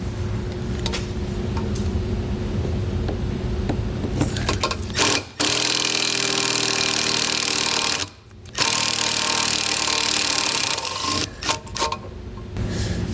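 Power tool work under a 2021 Chevrolet pickup bed, a half-inch socket driving out the mounting bolts of a B and W Companion fifth wheel underbed kit: steady close whirring in long bursts, broken by short pauses, with no talk.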